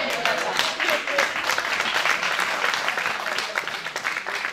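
Sustained applause from an audience at a youth day gathering in Rennes, steady dense clapping filling the whole stretch with some voices mixed in.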